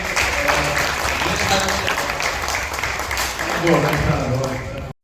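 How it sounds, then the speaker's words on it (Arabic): A crowd applauds at a presentation event for an African content creators' cup match, a dense, continuous wash of clapping with speech running underneath, cutting off sharply at the end. "دونك تصفيق كبير"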